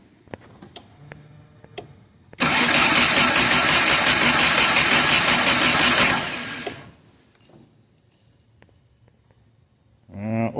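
A 1986 Shelby Charger autocross build engine cranks and catches, running loud and steady for about four seconds before dying away, with faint ticking and mechanical clatter around it and a brief burst of noise at the end.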